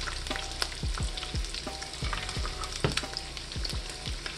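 Eggs fry in hot butter in a pan, a loud continuous sizzle and crackle close by, with repeated soft spooning knocks as the butter is basted over the top.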